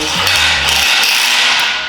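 A power drill drives a bolt into an incline squat rack, a loud, close whirring that drops in pitch and then gives way to a grinding, ratcheting rasp.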